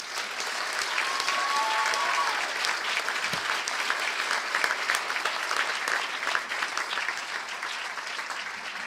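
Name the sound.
applause for graduates at ceremony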